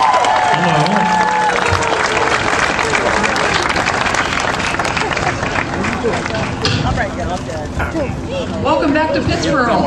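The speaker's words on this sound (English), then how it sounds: "Let's give them a round of applause for their work today." A crowd at a Jeff Gordon Day awards ceremony in Pittsboro claps steadily for the police department, a dense, sustained applause mixed with chatter and voices throughout.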